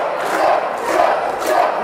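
A wrestling arena crowd roars and cheers in swelling waves, loud and dense, with no clear voices standing out.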